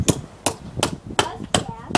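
Sharp hammer blows strike a chisel cutting into wood for a Japanese trunk beehive, six evenly spaced knocks about every third of a second, close and loud.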